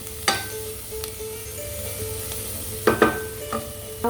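Chopped celery sizzles gently in a soup pot, with a low steady frying hiss and a few clinks of stirring scattered through it.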